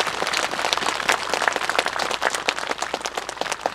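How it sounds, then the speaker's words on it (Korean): Audience at an outdoor ceremony in Samcheok marking the designation of Jukseoru Pavilion as a national treasure claps in scattered, irregular bursts, moderately close and without voices. "큰 박수 부탁드리겠습니다"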